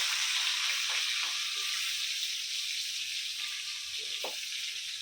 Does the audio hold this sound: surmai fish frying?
yes